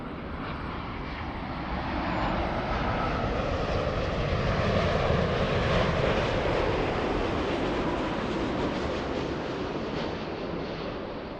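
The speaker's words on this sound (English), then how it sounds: "It's a United Airlines flight." A United Airlines jet arriving at LAX from Haneda roars loudly overhead on approach, its broad engine noise swelling to a peak mid-clip and then easing, with no voices.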